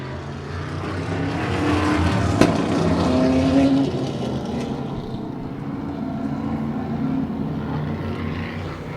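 A field of race cars, including a Ford Edsel, comes out of turn four for the start, a loud sustained engine roar with a brief sharp crack early on, building then holding steady.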